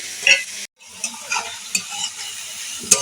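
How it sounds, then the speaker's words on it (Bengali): Green chili and onion frying in a pan while being stirred, with a continuous close sizzle broken by repeated scraping strokes of the spatula and one brief gap. "লঙ্কাটা বেশ খানিকটা আমি এটা বেশ নাড়ব খানিক্ষণ নেড়ে একটু হালকা ভাজা হয়ে গেলে"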